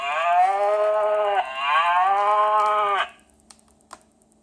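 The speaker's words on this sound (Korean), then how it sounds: "나는 얼룩소야" A spotted cow moos twice in a row, each call long, loud and close, followed by a few faint clicks and near quiet.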